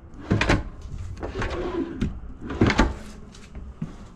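Drawers and cabinet fronts in a KZ Durango Gold G383RLQ RV being slid open and pushed shut, several thuds and rolling slides in quick succession, close by with no talk.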